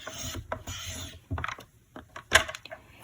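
A scoring tool is drawn across paper card stock while a pop-up shadowbox card is made, producing several short, close scraping and clicking strokes separated by brief pauses.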